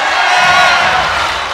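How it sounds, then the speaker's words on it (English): Crowd noise swells from spectators at an indoor bouldering competition as a climber moves through a problem, a steady roar of cheering and shouts sustained throughout. "Crowd getting behind Boulder here now"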